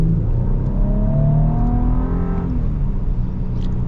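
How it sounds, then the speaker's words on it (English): A 2025 Infiniti QX80 Autograph with a turbo engine, in sport mode, revs up and accelerates as a loud rising drone heard close, the pitch climbing steadily before easing off into a steadier hum, with no talking. "Sounds pretty dang cool, revving up."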